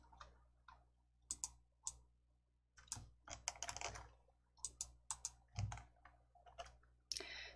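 Sharp mouse clicks and a few keyboard taps while formatting a document in a Korean word processor, scattered irregularly, close and fairly quiet, with no talking.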